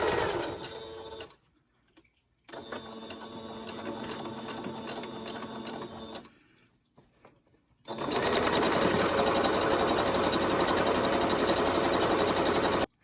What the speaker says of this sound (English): you put it in your machine, and then we're going to stitch through it and back stitch just to secure it